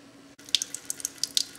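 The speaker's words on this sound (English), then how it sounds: "Add some cold water to the calorimeter." Cold water trickling and splashing into a copper calorimeter in a short series of drips and small pours, close by and fairly quiet.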